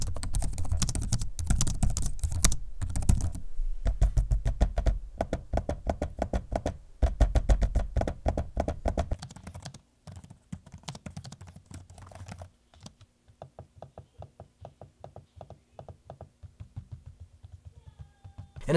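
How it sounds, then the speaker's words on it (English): Typing on HP Victus and HP Omen gaming laptop keyboards and trackpad, a long run of quick, close plastic key clicks and taps, dense at first, then sparser, lighter clicks toward the end. "Here's a quick audio sample of the keyboard and trackpad so you can check those out."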